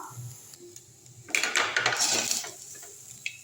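Roasted coconut is tipped from a pan into batter for kara paniyaram, giving a close scraping and clinking of utensil against metal pan, a short busy rattle between quieter moments.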